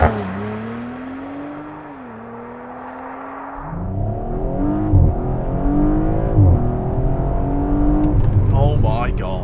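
A 2023 Audi RS5 in RS mode launches hard under launch control, its engine note climbing through quick gear changes as it accelerates, heard from inside the cabin with people talking over it.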